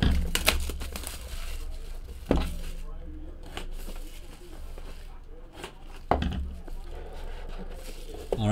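A box of 2018 Leaf Ultimate Draft football cards is opened, with crinkling wrapper and cardboard tearing in a few sharp bursts between quieter handling, while someone talks faintly.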